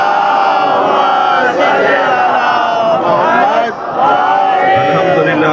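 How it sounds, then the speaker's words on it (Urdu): A large congregation at a Shia majlis in Mirpur Mathelo, Ghotki, recites salawat together. Many voices blend into one loud, continuous unison chant that dips briefly near the end before swelling again. "اب ان کی سلامتی کے لیے ایک صلوات پڑھیں."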